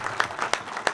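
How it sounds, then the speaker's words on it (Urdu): Audience applause at a political rally welcoming candidates, a short burst of crowd clapping with a few sharp, distinct claps standing out. "آپ کی بھرپور تالیوں میں"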